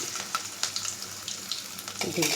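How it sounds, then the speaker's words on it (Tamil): Paneer frying in oil in a pan for paneer 65, with a steady sizzling crackle and occasional splashy water-like pops, fairly close and continuous with no talk. "ஃப்ரை ஆகிக்கிட்டே இருக்கட்டும்"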